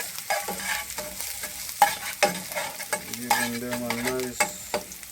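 Garlic stir-fries in a pan for a shrimp curry, with a bright sizzle broken by sharp stirring scrapes and clanks, while someone speaks briefly over it.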